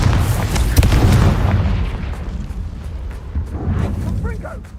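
A Confringo fire spell exploding in the Hogwarts Legacy video game, with a loud booming blast that rumbles and fades over several seconds while a voice speaks over it.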